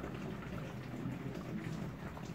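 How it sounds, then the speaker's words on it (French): Steady rain falls during a thunderstorm in Alsace, a dense even hiss with a low continuous rumble of thunder beneath it, moderately loud throughout with no talking. "Gros impact de foudre encore!"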